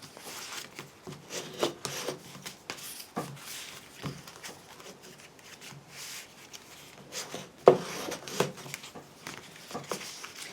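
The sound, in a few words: burnishing folds of card for an explosion box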